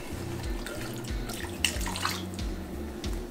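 Canned chili hot beans slide out of the can into a pot in a wet, glopping pour with splashy slurps and a few soft drips, close and fairly quiet, with no talking.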